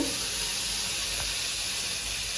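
Mustard seeds in hot oil in a pan make a continuous sizzling hiss with faint crackle, steady and close, with no voices.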